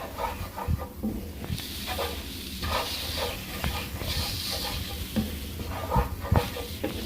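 Cauliflower fried rice with teriyaki shrimp and vegetables being stirred in a hot pan, a continuous sizzle under close scraping and a few soft knocks of the utensil against the pan.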